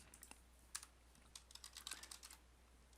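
Quick bursts of clicks on a computer keyboard while entering network switch commands, light, close keystrokes in short uneven runs over a quiet background hum.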